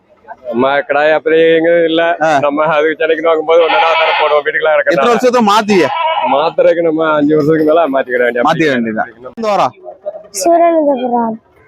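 Goats and young kids bleat loudly and repeatedly at the Ettayapuram goat market, with people talking nearby throughout.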